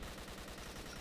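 Dense, continuous automatic gunfire from the video game Killing Floor, a rapid unbroken barrage of shots filling the whole moment at steady loudness with no voices.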